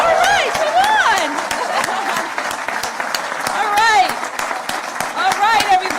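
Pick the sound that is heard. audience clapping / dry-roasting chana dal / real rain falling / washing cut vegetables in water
audience clapping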